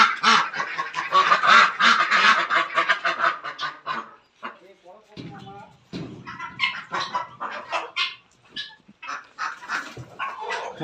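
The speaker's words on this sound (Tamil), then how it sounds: "ஒரு 10 வாத்து இருக்குங்க." Around ten ducks kept at a farm with eggs hatching quack, honk and squabble in dense overlapping bursts, loud and close, with a brief lull midway before the calls resume.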